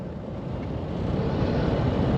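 Toyota Fortuner diesel engine idling after a piezo injector repair, a smooth, even low rumble that holds steady and grows slightly louder, with no voices.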